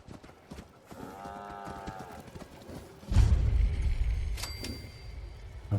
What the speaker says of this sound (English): I have a scary cow with 2 heads.